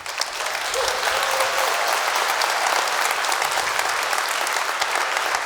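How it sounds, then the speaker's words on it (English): Dense, loud audience applause at the WAVE 2025 opening keynote, honoring Parloa's product and engineering team, a continuous wash of many hands clapping steadily throughout without speech. "let's give a round of applause once more to the incredible product and engineering team at Parloa"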